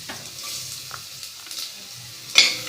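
Garlic sautéing in a pan for a ginataang tulingan dish, a soft, steady sizzle close by with faint stirring and a sharp clink of a utensil near the end.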